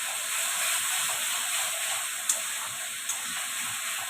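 Spice paste of onion, garlic, ginger and green chilli frying in a pan for a Bengali fish curry, giving a steady, close hiss and sizzle throughout with a couple of brief sharp ticks.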